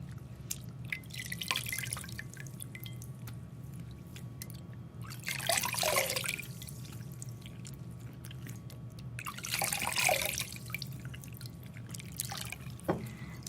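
Water at a sink splashes in a few soft bursts as a face is rinsed, with faint drips and a low background hum between them.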